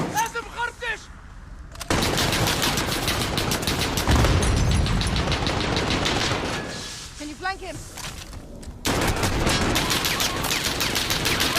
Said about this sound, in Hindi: तो वहां एक आदमी मशीन गन लगा के बैठा है।